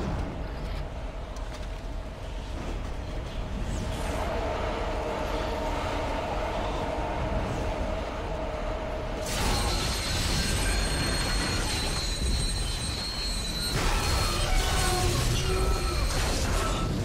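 Tram carriages rumble along the rails in the sci-fi horror game Dead Space 2, with loud sustained metallic wheel squeals and steady rolling noise throughout, intensifying partway through.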